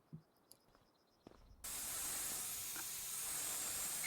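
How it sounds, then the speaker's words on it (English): A spray washer starts up to clean a tractor radiator in Farming Simulator 25: after a few faint clicks and taps, a loud steady hiss of spraying begins abruptly and continues without a break. "we'll get the whole thing sprayed out nice and clean"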